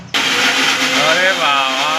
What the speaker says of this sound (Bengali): মিক্সিতে হেভি আওয়াজ হচ্ছে।